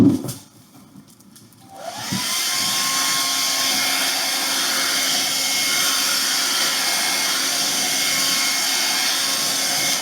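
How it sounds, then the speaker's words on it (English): A hair dryer switches on after a brief quiet start and blows steadily at close range, a loud continuous whooshing hum with a faint whine. "I'm going to hit this with the dryer for just a second."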